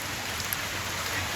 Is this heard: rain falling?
yes